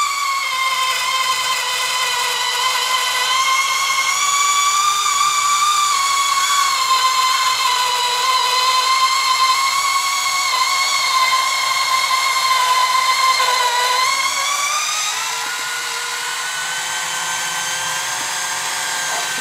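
A one-handed electric tin opener whirs steadily as it cuts its way round a tin, a continuous high-pitched motor drone with a close, even tone that drops slightly in pitch near the end, with no talking.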